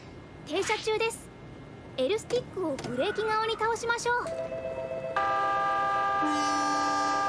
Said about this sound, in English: I can honk for fun a little bit, but if I honk too much,